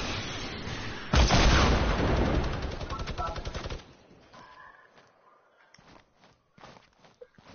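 Gunfire in a squads-mode shooter video game, a loud burst of shots and impacts up front that drops off to quieter scattered footsteps and faint shots.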